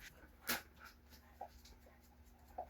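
Dogs at home whimper and pant softly nearby, with one sharp high yelp near the start followed by a few faint whines and steady breathy panting in a quiet room.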